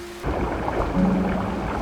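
Rain falling with rumbling thunder, a loud steady wash of rain and a low, rolling rumble that swells and holds through the short stretch, with no voices.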